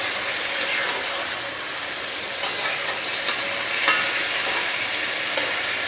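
Ash gourd and local chicken sizzle and crackle steadily in a pressure cooker, a dense close hiss with scattered pops and occasional stirring clinks, no voices.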